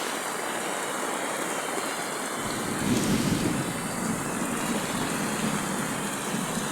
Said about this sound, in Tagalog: Lakas ng tubig yo.